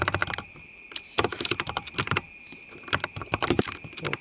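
Rapid, uneven clatter of keys on a computer keyboard while entering code, close and fairly loud, with bursts of quick keystrokes broken by short pauses and no speech.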